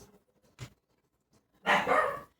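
A dog in a home kitchen gives one loud, close bark, preceded by a brief yip, against an otherwise quiet room.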